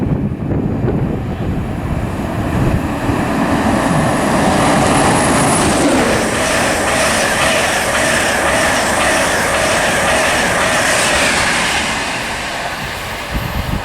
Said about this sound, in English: And also passing through, we've got a LNER service